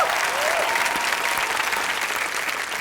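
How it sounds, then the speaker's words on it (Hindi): A studio audience at an entertainment night show gives loud, sustained applause for radio host Malishka, a thick continuous roar of clapping with some crowd noise underneath. "एक बार जोरदार तालियां हो जाए मलिष्का के लिए"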